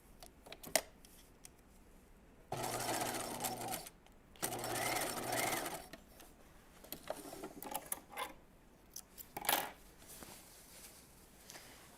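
A home sewing machine stitches a jeans zipper in two steady motor bursts of a few seconds each, turned slowly by the hand wheel between them, with light handling clicks and fabric rustle around the runs.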